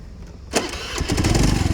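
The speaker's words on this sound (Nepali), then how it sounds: "स्टार्ट पनि एकदमै छिटो हुन्छ, एकदमै एक सर्टमा यसको स्टार्ट हुन्छ" A second-hand vehicle's engine cranks and catches within a single try after a brief quiet moment, then settles into a loud, close, steady running rumble.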